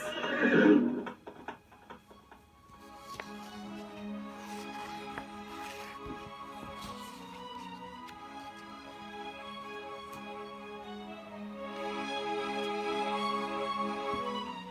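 A horse neighs loudly at the start, followed by rhythmic galloping hoofbeats that carry on steadily under soft musical tones as a sound effect during a storybook reading.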